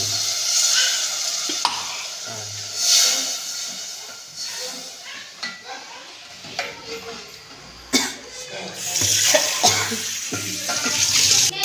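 Water poured into a sizzling pan of chun gola curry with turmeric and masala, producing loud surging hisses and bubbling in waves, with stirring scrapes close up.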